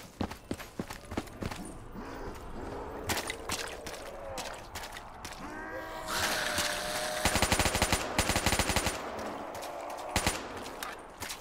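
AK rifle gunfire in a zombie video game: rapid bursts of automatic shots and scattered single cracks over game music and ambience, loud and close, coming in repeated volleys.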